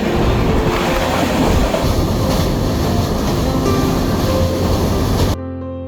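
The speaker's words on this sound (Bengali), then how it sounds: "হাওড়া থেকে ট্রেনে উঠলাম স্টিল এক্সপ্রেসে।" Steel Express passenger train running on rails, a loud continuous rumble with rhythmic clatter heard from inside the carriage, ending abruptly.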